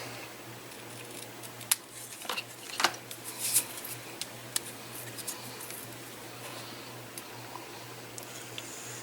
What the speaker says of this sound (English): Let's cut just a bit off of that one.